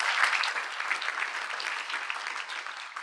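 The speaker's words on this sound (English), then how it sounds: "A little hand of applause for the team putting this event together." Audience at a Georgia Tech ATDC startup showcase claps for the event team, producing dense, sustained applause at an even level for the whole stretch.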